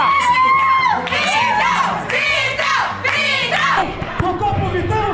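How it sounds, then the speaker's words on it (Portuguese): Supporters at a youth football match shout and cheer continuously, loud and close, with overlapping excited voices and whoops throughout. "Eu quero agora ouvir a torcida do Vitão gritando aí, ó!"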